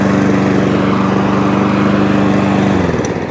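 A Mountfield lawn mower fitted with a replacement carburetor runs close and loud, a steady buzzing petrol-engine drone that drops in pitch near the end, with no talking.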